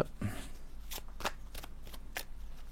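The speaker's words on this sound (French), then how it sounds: "On va prendre 3 cartes déjà pour commencer, je vais faire une coupe, tac, tac" An oracle card deck being cut and handled: a few short, crisp papery slaps and riffles, close and fairly quiet, in a sparse rhythm against a low background hum.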